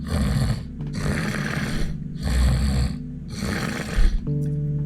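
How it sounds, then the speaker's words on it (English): A person makes four deliberate, rhythmic snoring breaths, each a rough, rattling rasp lasting about a second, close to the listener. "Step 2, the head area, which is frontwards and backwards snoring."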